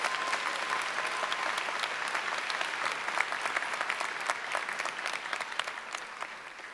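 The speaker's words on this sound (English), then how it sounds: "if we could give them a round of applause" A commencement audience at the MICA undergraduate ceremony applauds steadily, a dense wash of many hands clapping that holds an even level for several seconds and eases off slightly near the end.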